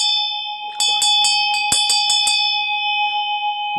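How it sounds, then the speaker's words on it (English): A bell is struck to begin a prayer: about eight quick, evenly spaced strikes ring loud and close over a steady, lingering metallic hum, with no talking. "start with the bell"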